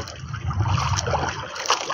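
Seawater splashes and sloshes close by in a short burst of irregular watery movement, with no speech over it.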